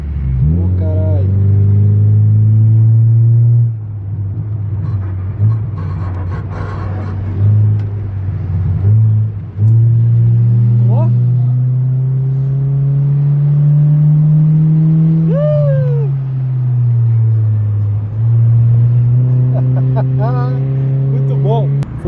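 An automatic Honda Civic Coupe EJ8 in stock condition drives laps on a race track, its engine droning loudly and continuously from inside the cabin with rising and falling revs. Excited voices talk over the engine noise.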